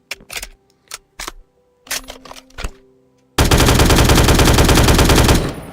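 A Vietnam-style M16 variant with a 20-round magazine in a Minecraft Bedrock mod, first a few scattered single shots and clicks, then a loud, continuous full-auto burst lasting about two seconds before cutting off.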